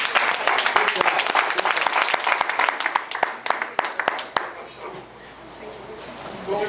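An audience at a percussion workshop claps in a dense burst of applause that thins out and fades near the end, with a few sharp individual claps standing out close by.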